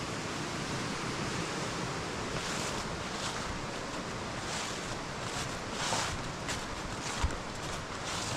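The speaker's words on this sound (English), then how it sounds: "you can see all the water going straight down the ramp and dropping down 18 inches at the bottom of it" A stream's water rushes down a sluice gate ramp and drops about 18 inches at the bottom, making a constant, loud, hissing roar that stays even throughout, with no voices.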